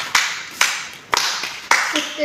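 Four loud, sharp hand claps spaced about half a second apart, close by, each one ringing briefly, with a voice murmuring faintly in between.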